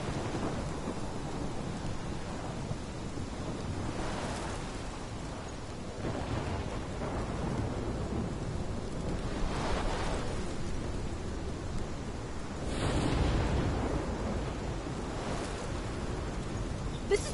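Thunderstorm in the video game Life is Strange: steady heavy rain with rolling thunder rumbles, one louder crack near the end, continuous and fairly loud with no talking.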